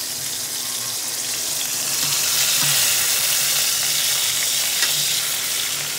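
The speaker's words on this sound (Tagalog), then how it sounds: "Pa-fried muna natin para masarap lang." Food frying in hot cooking oil, a constant loud hissing sizzle heard up close with faint occasional clinks, no speech over it.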